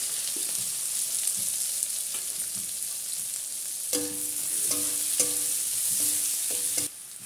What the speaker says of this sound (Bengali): দুটো পেঁয়াজ নিয়েছি আমি দিয়ে দেবো পেঁয়াজ